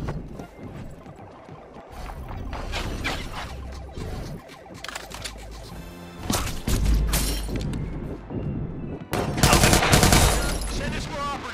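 Gunfire in the video game Watch Dogs 2 rings out as a chaotic shootout, with bursts of shots and sharp impacts layered over noisy action.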